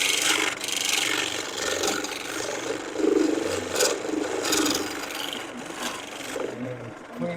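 A bowl gouge cuts a spinning wooden bowl on a lathe, giving a steady, close rasping and scraping texture with slight swells in intensity, heard alone with no talk.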